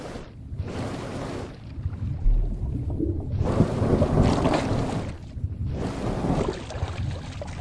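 Rain and thunder in the horror game Horror Tales: The Beggar form a dense, roaring wash that swells and fades in broad waves, like gusting wind, steady and fairly loud.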